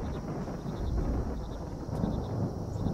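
A low, steady rumble of thunder during a lightning storm, rolling on continuously for a few seconds with a faint wind-like hiss and no speech.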